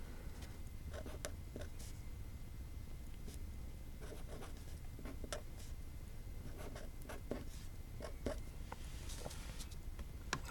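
A pen writes by hand on paper, making soft intermittent scratching strokes in short bursts against a quiet room background, close and faint, no speech.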